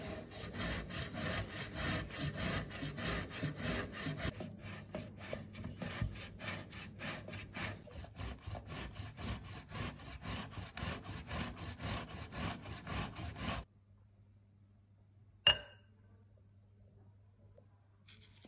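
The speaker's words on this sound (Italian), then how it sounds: "Grattugia a fori larghi e grattugiamo le patate." Potatoes grated on a coarse, wide-holed grater: steady rhythmic rasping strokes, close and fairly loud, continuing for about thirteen seconds before stopping, then a single sharp knock in the quiet that follows.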